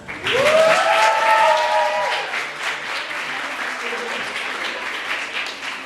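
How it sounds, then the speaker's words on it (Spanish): An audience claps to welcome a speaker at a neuropsychology talk, strong clapping rising at the start and continuing steadily, with a brief voice heard over it early on. "lo recibimos con un fuerte aplauso"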